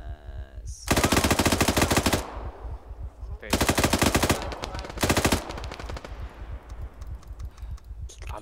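Automatic gunfire in a first-person shooter video game comes in three long, loud, rapid bursts separated by brief pauses, with quieter game sounds in between.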